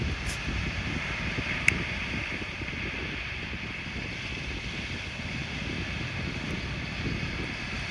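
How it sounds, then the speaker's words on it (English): Steady outdoor wind rushes and buffets the microphone throughout, a constant broadband roar with no voices and only a faint tick partway through. "A little windy out here now."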